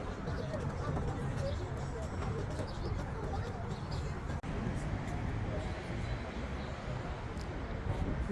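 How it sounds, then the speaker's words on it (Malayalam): Many pigeons gathered in a busy waterfront square on the Asian side of Istanbul coo softly under constant crowd chatter and outdoor noise, with people talking nearby throughout. "നിറയെ പ്രാവുകളുണ്ട് ഇവിടെ നിറയെ."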